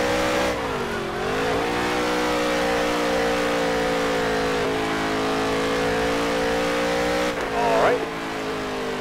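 Race car engine roaring at steady high revs through a qualifying lap in the NASCAR Heat 3 video game, loud and continuous with a brief pitch shift near the end, while a voice talks over it.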